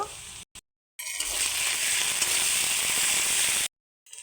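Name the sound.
onions frying in oil in a wok with ginger-garlic paste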